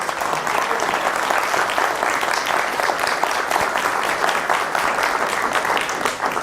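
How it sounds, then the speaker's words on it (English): A room full of people applauds board members who stand up at a grief and loss event, dense steady clapping that holds evenly throughout without voices. "giving them a round of applause"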